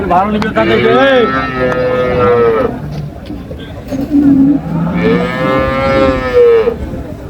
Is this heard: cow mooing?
yes